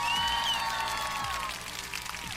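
An applause sound effect: a dense crowd clapping and cheering runs loud and steady for about two seconds, with bright tonal whistle-like lines above it.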